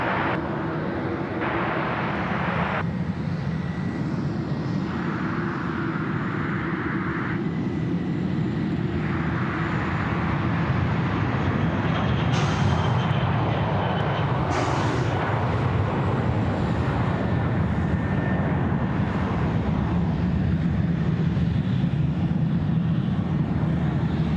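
An airliner arriving from Auckland lands at Sydney Airport, its engine roar broad and sustained at moderate distance, rising and falling in tone across the pass without any voices.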